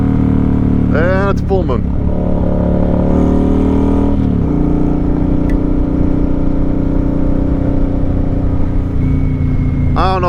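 A 2009 Kawasaki Vulcan 900 motorcycle rides at night with its engine droning steadily and loud up close. Brief revving rises punctuate the drone, and someone talks over it.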